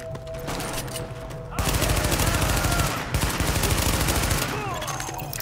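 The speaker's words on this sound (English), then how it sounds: "escort party taking heavy fire from the roof" Dense, sustained automatic gunfire from a Tom Clancy's The Division firefight, rapid repeated shots over a rumbling battle backdrop, with a brief lull midway before the barrage resumes.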